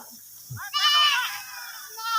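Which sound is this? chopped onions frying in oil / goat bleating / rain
goat bleating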